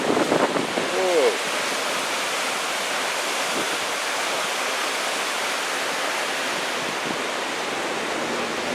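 A fast-flowing river rushes under a bridge in a steady, loud broadband roar close by. A brief voice comes near the start, and then the water carries on alone.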